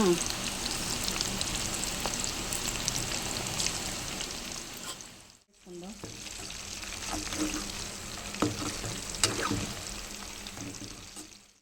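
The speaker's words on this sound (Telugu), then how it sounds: "ఒక్కొక్క ముక్క వేసేసుకుందాం ఇది కూడా వేపేసుకుందాం" Pakoda pieces fry in hot oil, a dense bubbling sizzle that dips briefly midway as another piece drops in, then resumes with crackles and small pops, close and steady.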